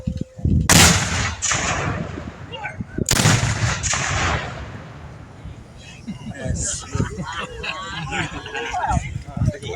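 An artillery gun fires two loud booming blasts in quick succession, each followed by a rolling outdoor echo, with people talking and reacting afterward.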